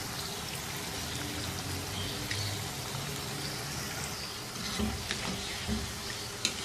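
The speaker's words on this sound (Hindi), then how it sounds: "नींबू के रस को इसमें अच्छी तरह से मिक्स कर लेना है" Lemon juice being stirred into Afghani chicken karahi, a steady wet sizzle and frying crackle with soft spoon stirring and a few louder clinks near the end.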